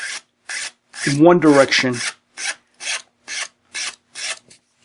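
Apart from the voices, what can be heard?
file rasping the edge of a watercolor paper pendant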